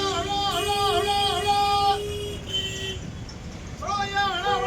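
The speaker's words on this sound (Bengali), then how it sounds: "Local bus." Local bus traffic on a busy Kolkata street, with repeated tonal horn toots over a steady roadway rumble and voices talking nearby.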